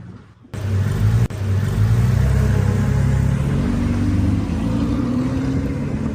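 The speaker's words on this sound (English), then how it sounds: "A bright yellow Porsche GT3 RS rolls onto the track." A stock yellow Porsche GT3 RS with standard exhaust on a track, engine starting up and running loud and close as a steady, sustained rumble with a brief dip early on, no talk over it.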